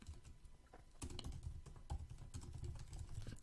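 Computer keyboard typing while writing R code, a steady run of light clicks and key taps, close and moderately quiet, with no talking.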